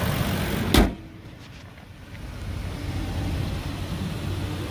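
A 2006 Ford Expedition 4x2 with a 5.4-liter 3-valve Triton engine idling outdoors on a lot: a steady low rumble, with a single sharp thump near the start, then a fairly quiet, even engine drone; no talking.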